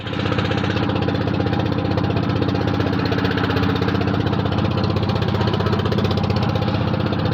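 A boat engine running steadily near the Farakka barrage, a loud, close, rhythmic mechanical chug that holds unchanged throughout.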